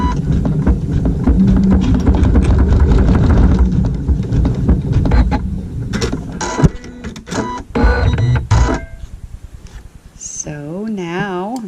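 A sewing machine stitches a tack down on quilting fabric for a log cabin triangle block, starting with a loud, steady motor whir before breaking into a run of irregular clicks and knocks, with a voice speaking briefly at the end.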